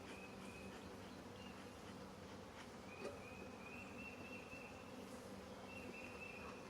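Honey bees buzz around an open hive in a steady, dense drone. Individual bees whine past close by now and then, and no one talks.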